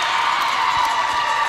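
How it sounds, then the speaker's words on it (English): A basketball crowd in the Snowflake gym, mostly Wildcat fans at a girls' game between Snowflake and Chinle, makes a steady, loud roar of cheering and noise that holds level without a break. "There's probably more Wildcat fans here in Snowflake at this game than Snowflake fans, and they're making a lot of noise"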